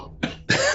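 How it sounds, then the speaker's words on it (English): Two short, close coughs during a tabletop role-playing game session: a brief throaty burst, a pause, then a louder, longer rasping cough, with no talking over them. "You just hear a coughing."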